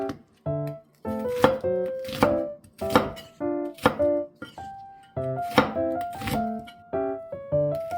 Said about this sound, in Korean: 양파 1개를 썰어주세요